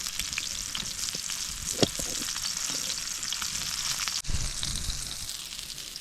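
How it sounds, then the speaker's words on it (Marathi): Bangda mackerel fries on a wood-fired clay stove outdoors, giving a steady, close crackling sizzle throughout with a brief sharp pop and a short dip before the frying swells again. "एक साईड आता फ्राय झालेली आहे बांगड्याची दुसरी बाजू आपण उलटी करून ठेवूया"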